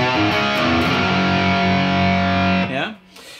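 Heavily distorted electric guitar plays a riff, a loud sustained chugging phrase that rings out and slides down before a brief drop in level at the end.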